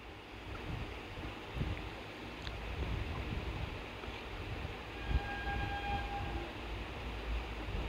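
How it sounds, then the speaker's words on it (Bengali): A train passes in front of a single-storey house, its steady rumble and clatter of wagons rolling continuously close by, with a faint horn-like tone sounding briefly toward the end. "কেমন ট্রেন যাচ্ছে আমার বাড়ির সামনে দিয়ে"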